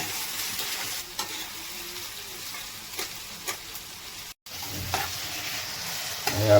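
Onions fry in a pan for a fish curry, a steady broadband sizzle running close and continuous with a few scrapes and stirs, a brief dropout near the middle, and no voices.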